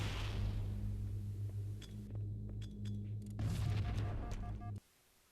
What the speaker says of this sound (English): I'll lay a plasma down, I'll bounce the frag off its explosion